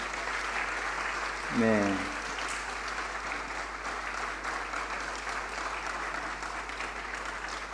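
A church congregation at an ordination service applauds steadily in a reverberant hall, the clapping soft and even throughout, with a brief spoken word from a man near the start.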